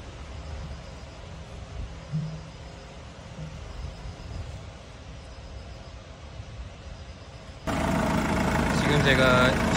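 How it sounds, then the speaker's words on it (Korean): A car engine idles steadily at low volume after starting, with coolant being refilled at home, and a brief louder, brighter noise burst near the end. "지금 제가 시동을 켜가지고 공회전을 좀 시키고 있습니다."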